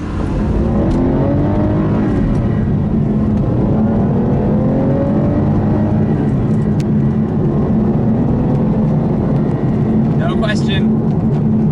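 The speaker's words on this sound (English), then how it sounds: "is that the V12, 6-litre V12. It's absolutely immense." The 6-litre V12 of an Aston Martin DBS with a manual gearbox rumbles loudly and steadily close by, a deep continuous engine drone with slight swells, while someone talks over it throughout.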